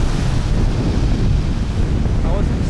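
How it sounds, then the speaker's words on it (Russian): Strong wind roars across a seaside beach promenade in Crimea, a loud, continuous rumble buffeting the microphone with surf mixed in and no clear voices. "Сейчас купаться вообще нереально. Такой ветер."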